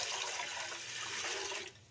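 Steady rush of water pouring close by into a pot for boiling corn, for nearly two seconds, then tapering off abruptly near the end.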